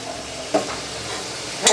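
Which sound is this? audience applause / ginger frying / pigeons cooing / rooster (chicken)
ginger frying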